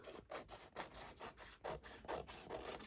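Paper is trimmed from the edge of a junk journal made from a junk mail envelope, a rhythmic run of close, soft rasping strokes, roughly seven or eight in a row, quiet and alone.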